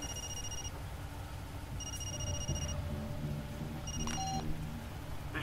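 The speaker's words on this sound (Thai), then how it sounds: "เอารับโทรศัพท์ก่อน" A telephone rings a few times in the video game Far Cry 2, faint and repeated against low ambient noise.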